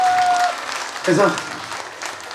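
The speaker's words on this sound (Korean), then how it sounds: "박수 한번 주세요." An audience at a singer's evening concert in Okcheon applauds in a continuous clatter of hands, while a voice briefly speaks over it partway through.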